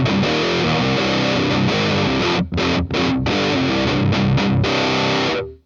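An electric guitar played through a Hotone Djent distortion pedal gives a thick, heavily distorted chugging riff, loud and close, broken by a few short muted stops.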